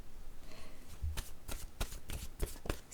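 Oracle cards are shuffled in a quick series of crisp riffling flicks, about seven soft, close snaps in an irregular rhythm.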